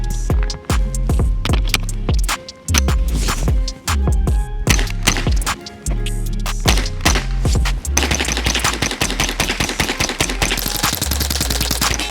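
Winchester Wildcat rimfire rifle fired in rapid succession during a long run without jams, loud close sharp cracks in fast bursts, the pace turning into a dense continuous rattle near the end.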